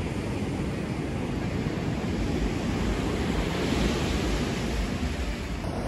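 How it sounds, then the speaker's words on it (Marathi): High-tide ocean waves surging onto Mandrem beach in Goa, a steady broadband roar of surf, loud and unbroken, mixed with wind buffeting the microphone. "समुद्राला भरती आणि लाट जोरात अशी येते"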